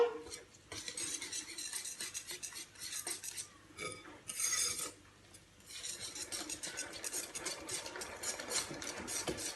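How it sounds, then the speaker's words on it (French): Ham being mixed into quiche filling in a bowl, soft wet stirring with clinks of a utensil against the bowl, quiet and close, in a short burst of mixing. "Ensuite, je mets mon paquet de jambon. Voilà, je mélange."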